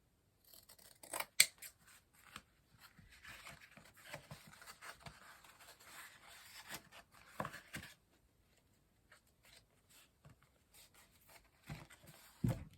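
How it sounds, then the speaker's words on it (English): Scissors snip through fabric seams on sewn breeches, a series of close, crisp cuts in irregular clusters, busier early on, then sparser near the end. "Next, we have to trim the seams and then turn it inside out."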